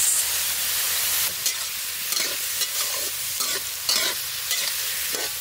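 Prawns with peeled garlic, green chilli and onion sizzle loudly in a pan for a village-style prawn dish, a constant close hiss broken by repeated scraping stirs at an uneven rhythm, no talking.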